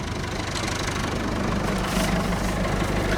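A Massey Ferguson MF 265 tractor engine idles close by with a steady, rough diesel chug and rhythmic knocking throughout, no voices over it.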